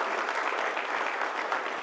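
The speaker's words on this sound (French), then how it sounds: "On peut l'applaudir." Applause from the audience at a summer jobs and seasonal work forum, a dense, even roar of many hands clapping together, sustained and fairly loud with no talking over it.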